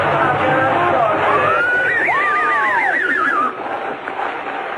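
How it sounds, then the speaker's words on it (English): Horses harnessed to a four-horse caleche neigh as a radio drama effect, a loud wavering whinny rising and falling over a murmuring background before fading. "A caleche with 4 horses were drawn up beside us."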